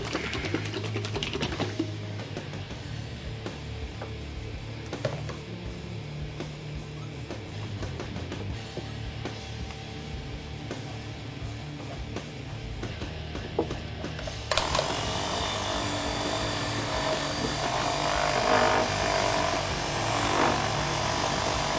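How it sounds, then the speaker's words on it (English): A spinning buffer polishing pad works over the finish of a Charvel guitar during a restoration, giving a steady mechanical whir that continues throughout and grows louder and brighter about two-thirds of the way in. "While polishing, let the buffer glide."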